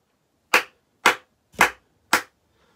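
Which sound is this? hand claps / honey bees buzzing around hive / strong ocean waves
hand claps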